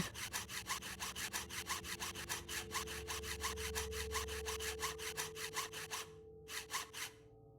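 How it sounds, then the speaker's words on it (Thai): A hand saw cutting back and forth through a chain in the Thai horror game Home Sweet Home Episode 2, a fast steady rasping rhythm of strokes, fairly loud and close, briefly pausing near the end. "ทำไมโซ่ไม่ขาดวะโหเลื่อยโคตรนาน"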